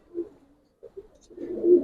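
Giribaz pigeons cooing close up in short low throaty bursts, a brief coo, a pause, then a longer swelling coo at the end, with no talk.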